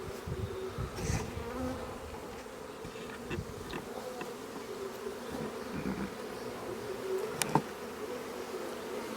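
A caught honeybee swarm hums in a continuous close buzz, with individual bees flying past now and then, all through the recording and with nobody talking.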